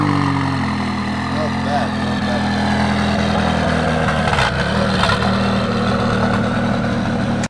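An orange McLaren 540C fitted with GT4 parts pulls away at a Swiss hypercar auction, its engine a loud, steady drone with a rising swell near the end, while someone speaks briefly over it.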